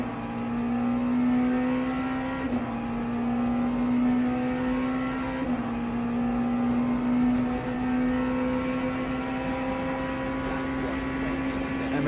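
Race cars, a Porsche and a Ferrari, run on a circuit as a steady loud engine drone holds at high revs with small dips at a few gear changes, heard continuously from close by.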